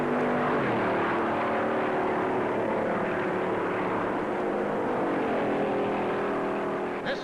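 Big 1956 Chrysler stock car roaring past other racers on the Darlington oval, a loud continuous engine drone with pitch sweeps as cars string out, heard steadily throughout with no voices.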